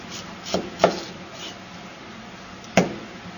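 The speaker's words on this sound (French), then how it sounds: "Émincer un oignon, couper en deux" A knife slices through an onion on a cutting board, three or four short crisp cuts with pauses between, close and fairly quiet.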